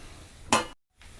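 Pepper chicken roasting in a pan gives a soft sizzle, broken by a sudden louder burst and then near silence before the sizzle returns.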